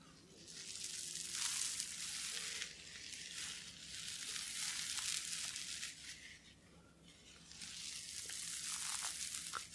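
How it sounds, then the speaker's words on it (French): A small brush sweeps close to the microphone in soft, breathy swishes that come in several long passes with brief quieter gaps between them. "observer les détails de la qualité de l'audition de ce petit pinceau"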